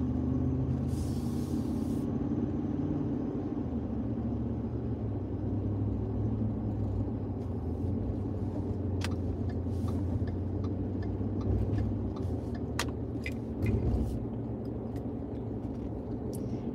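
Inside a moving car, a low steady engine and road rumble hums throughout, with scattered small clicks and ticks over it and a brief louder thump near the end.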